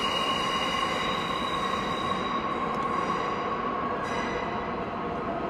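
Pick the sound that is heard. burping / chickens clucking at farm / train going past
train going past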